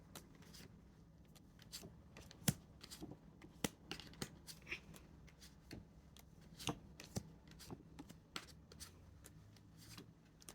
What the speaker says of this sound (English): another round of shuffling